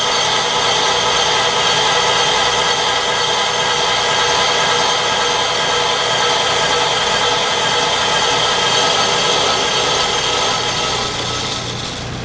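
A BL500 brake lathe machining a brake rotor makes a continuous, loud, close grinding whine that holds steady for the whole stretch, easing off slightly at the very end.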